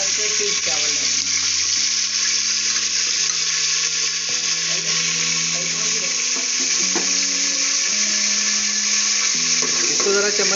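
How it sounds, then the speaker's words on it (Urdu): Cumin seeds sizzle and fry in hot melted ghee, a loud, steady crackling hiss close up that runs throughout, with faint musical tones underneath. "گھی میلٹ ہو رہا ہے. اس کے بعد دیکھتے ہیں, اب گرم ہو گیا نا, زیرہ ایڈ کریں گے"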